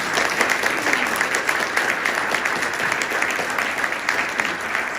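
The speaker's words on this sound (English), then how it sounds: "should we thank Richard and Natasha with warm applause?" Warm audience applause at a conference lecture, dense steady clapping from a large crowd that holds evenly for the whole stretch.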